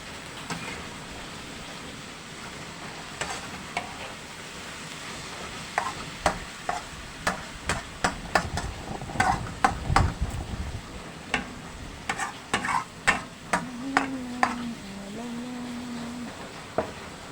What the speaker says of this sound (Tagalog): Haluin natin guys